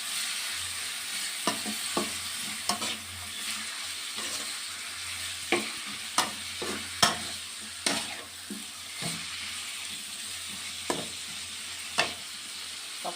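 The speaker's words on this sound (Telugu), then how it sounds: "ఇలా వేగేటప్పుడు కాస్త సాల్ట్, ఇప్పుడు బాగా వేగుతుంది." Ridge gourd frying with salt in a pan, a constant bright sizzle punctuated by regular scraping and tapping strokes of a spatula, close and loud, with no voices.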